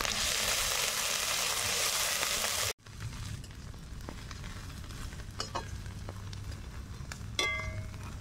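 Ginger and garlic paste goes into hot oil with biryani masala. A loud steady sizzle drops away suddenly and then gives way to quieter frying, stirring and a few light clinks of a utensil on the pan.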